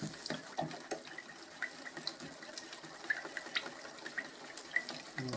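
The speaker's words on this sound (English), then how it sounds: "going to add some methylated spirits to this to thin it out a bit" Methylated spirits trickle from a container into paint, a faint uneven gurgling pour with small splashes that stops near the end.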